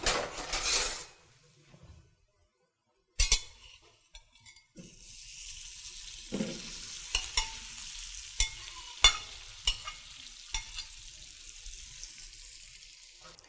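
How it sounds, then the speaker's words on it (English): Salted butter melting in a pan for a roux, with a quiet sizzle after a few silent gaps and scattered sharp clicks and taps of utensils. "So I have to melt my salted butter first."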